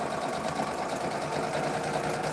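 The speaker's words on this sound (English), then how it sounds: "Chain piecing to save on thread." A sewing machine runs continuously while chain piecing fabric, its motor humming in a steady even drone at moderate distance throughout, with no pauses or voices.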